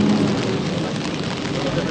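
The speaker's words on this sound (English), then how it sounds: "In the rain." Rain falling outdoors in Iceland: a steady, fairly loud wash of dense drops close by with no breaks, people talking softly underneath.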